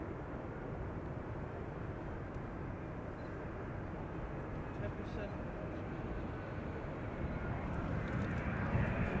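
A Boeing 777 coming in to land at Schiphol Airport produces a steady, low, rumbling jet roar that holds at a moderate distance and swells slightly toward the end.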